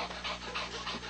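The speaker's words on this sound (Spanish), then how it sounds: "Ese perrito, qué bonito, caramba" A small dog pants in quick, steady breaths, close and fairly quiet, with a faint constant hum underneath and no talking.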